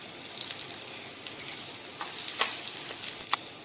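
Ginger garlic paste and cumin seeds frying in a pan, a soft steady crackling sizzle with a few sharper spatter pops, fairly quiet and with no voice.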